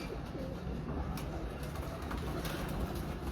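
A breeder pigeon coos softly in a loft, faint low cooing over background noise in a brief stretch with no clear talking.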